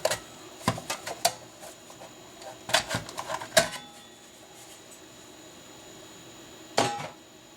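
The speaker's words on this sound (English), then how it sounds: "There are 1, 2, 3, 4, 5, 6 screws that you have to remove to get this thing open" Tiny screws being removed from an old Astak CM-04DEV camera during disassembly, heard as scattered sharp clicks and ticks in short bursts with quiet pauses between, close and alone.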